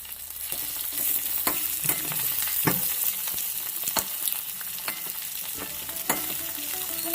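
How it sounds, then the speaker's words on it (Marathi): Masale bhat rice sautéed in a pan gives a continuous frying crackle broken by sharp scraping taps of a spatula at irregular intervals, nearby and with no speech. "पुन्हा टाकून टाकून परतून घेऊया"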